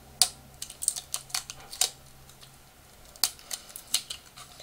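Adhesive tape being pulled and pressed onto a homemade phone tripod, a series of short crisp rips and crackles in uneven bursts, close and alone over a low background hum.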